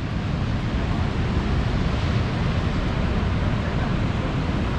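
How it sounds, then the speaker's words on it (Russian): Strong ocean surf breaking on a Gold Coast beach in Australia in the early morning, a continuous loud roar of waves with wind buffeting the microphone, no voices. "Очень сильная волна, ты видишь?"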